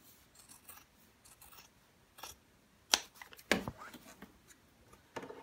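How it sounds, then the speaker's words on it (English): Quiet, intermittent snipping and rasping of dressmaker shears slicing through fabric, a few sharper crisp cuts standing out from soft rustling. "This particular scissor that I'm using, or shear, this is a kind of a dressmaker shear."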